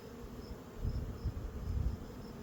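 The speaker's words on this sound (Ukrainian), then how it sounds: "Бджоли вистачає, повний корпус." Low, steady buzzing of many honey bees in a full hive body, faint and close, swelling slightly in waves with no voices.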